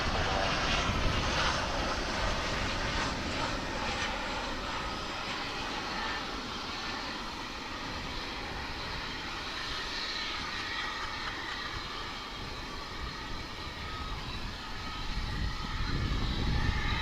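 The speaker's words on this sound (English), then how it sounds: "Coming in from Corpus Christi is American Eagle Flight 4917, a CRJ 700" American Eagle CRJ 700 regional jet landing at Dallas/Fort Worth International Airport, a loud, steady engine roar with broadband rumble that holds for the whole stretch and swells slightly near the end.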